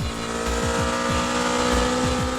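A Honda Civic Type R EK9 engine screams at high revs, its pitch sweeping up again and again through quick gear shifts in a loud, continuous run.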